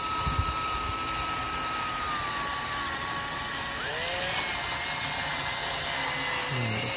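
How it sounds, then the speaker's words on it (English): A power drill spins a Rain-X restoration disc to buff a misted, foggy car headlight lens under medium pressure, giving a steady, close, high whine whose pitch shifts partway through as the load changes. "We're gonna mist this guy, and then we're gonna start buffing using medium pressure."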